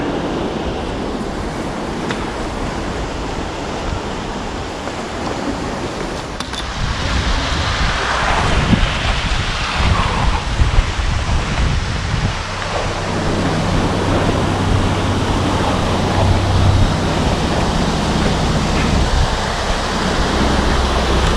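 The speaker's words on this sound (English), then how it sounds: "Looks like somebody's just winding up the paddles, so they're letting all the water out." Water rushes steadily through opened lock paddles on the River Soar, a broad continuous roar heard close by and alone, swelling slightly partway through.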